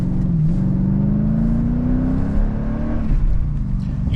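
Mercedes CLK 500 in Sport Plus 5 mode accelerating hard from inside the cabin, a steady engine drone rising smoothly in pitch over about four seconds, loud and continuous with no talking.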